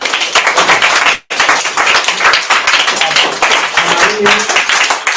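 Loud, continuous applause from an audience, with a momentary break near the start before the clapping resumes.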